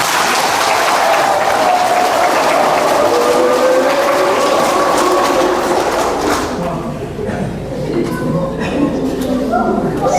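An audience at a speech gathering in a church community applauds loudly and steadily, a dense wash of clapping that fades and thins toward the end as a voice begins speaking.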